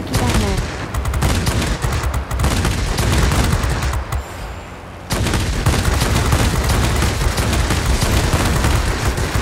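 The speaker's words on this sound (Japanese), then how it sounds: "最大射程ですが牽制射撃。" Dense, loud bursts of aircraft machine-gun and cannon fire from a Ki-84 Hayate, an Imperial Japanese Army Tier 7 fighter, in World of Warplanes. The fire is nearly continuous, with a brief lull midway before it resumes at full intensity.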